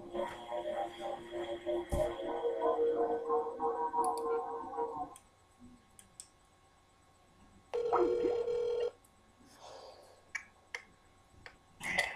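A phone is used to call a friend on speaker: tone sequences and ringing chime in bursts, separated by quiet gaps and faint clicks, moderately loud.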